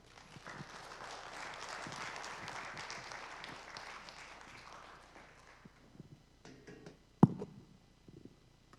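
A church audience gives welcoming applause for a missionary speaker at a testimony gathering, clapping that builds and then fades after a few seconds, leaving quiet room noise, a sharp knock and scattered shuffling.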